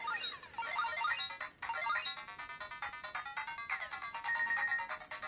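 Bright, beeping electronic game music with quick melodic chirps and tones, continuous and fairly tinny, from the small bottom-right built-in speaker of a Miyoo Mini Plus handheld console.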